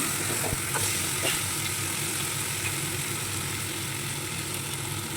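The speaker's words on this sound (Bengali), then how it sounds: "মুসুর ডালগুলো ভিজিয়ে রেখেছিলাম দিয়ে দিলাম মুসুরের ডালের সঙ্গে খুব সুন্দর করে আবারও ভেজে ভাজা করে নেবো" Soaked masoor lentils fry with onion and garlic in a pan, giving a continuous dense hiss with a few faint stirring clicks near the start.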